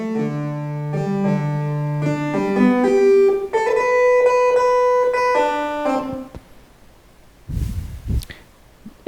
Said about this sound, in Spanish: Es la modulación que nos ofrece Arturia, del ancho de pulso.